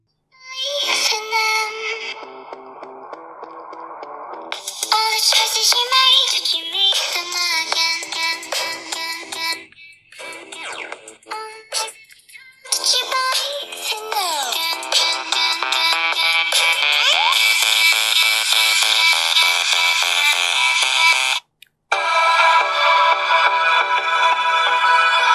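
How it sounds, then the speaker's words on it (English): An Infinix Hot 7 phone plays a ringtone melody through its built-in speaker at full volume, loud and bright, running continuously with only brief pauses. "now let's test the speaker loudness."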